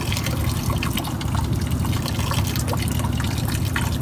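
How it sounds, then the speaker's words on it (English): Collected rainwater gushes out of a homestead storage container in a loud, steady rush and splash that continues without a break, with no talk over it. "when the water starts to come out, I'll show you"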